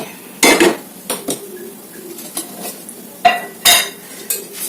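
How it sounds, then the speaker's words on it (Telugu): A metal kadai is set down on a kitchen stove with a handful of sharp clanks and clatters, spaced irregularly and close, with quiet gaps between them. "ఇలా బాండ్లీ అయితే పెట్టేసుకోండి. స్టవ్ అయితే వెలిగించేసుకోండి"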